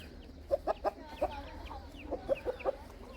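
Desi hens clucking on a farm in Pakistan, two short bursts of several quick, fairly quiet clucks separated by a pause, over soft background noise.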